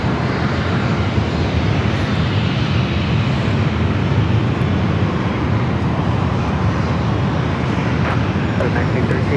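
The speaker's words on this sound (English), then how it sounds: "Southwest flight up next." A Southwest airliner at San Diego airport produces a broad, steady jet engine roar that holds loud and unbroken from start to finish, with faint radio-style voice chatter underneath.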